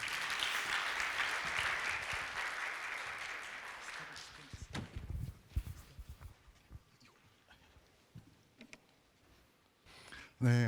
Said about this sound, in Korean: 나오시면 큰 박수 부탁드리겠습니다.